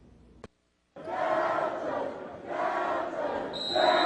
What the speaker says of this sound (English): Crowd having a great time tonight, and for good reason.